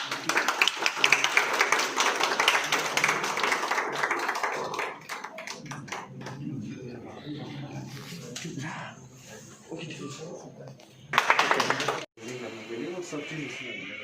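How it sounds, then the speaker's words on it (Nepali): Hands clapping in short bursts at the inauguration of a police cyber forensic lab, the claps mixed with loud chatter from people nearby, then fading into quieter talk with another brief clatter near the end. "लो यार ताली मारो"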